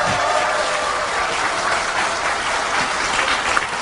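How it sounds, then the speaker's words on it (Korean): At a Democratic Party convention-eve gathering for members, a large crowd keeps up sustained applause, a close, unbroken hiss of many hands clapping at steady volume. "네, 더 큰 박수 좀 부탁드릴게요"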